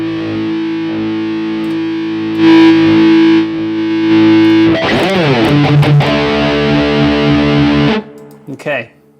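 Electric guitar played through the Diamond amp model of a Boss GT-1000 processor, loud, distorted and mid-heavy, with sustained chords that shift into a denser rhythmic passage before cutting off, then a brief closing stab.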